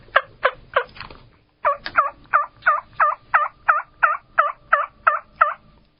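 A hunter's call imitates a turkey hen, producing a loud, close series of sharp yelps: three spaced notes, a brief pause, then about a dozen evenly paced, rhythmic yelps.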